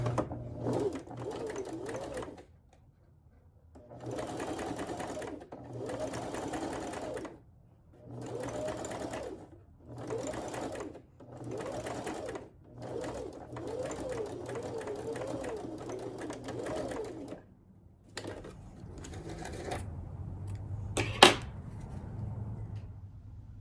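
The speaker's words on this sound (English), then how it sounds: "So I'm going to try sewing this together." A sewing machine stitches fabric pieces for a turban in repeated bursts of rapid mechanical whirring, each run a couple of seconds long and separated by short pauses, close and clear, ending with a sharp click.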